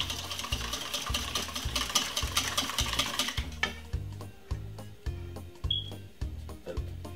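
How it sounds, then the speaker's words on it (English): Two eggs are whisked by hand in a bowl for sponge cake, a brisk, even rhythm of clicking strokes, louder at first and then somewhat softer. "Use a whisk and just give it a whisk like this."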